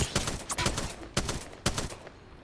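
Sharp bursts of gunfire in a shooter video game, clusters of rapid cracks followed by two spaced volleys, loud and close with no talk.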